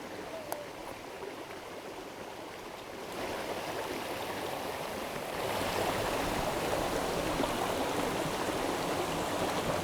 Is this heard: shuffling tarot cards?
no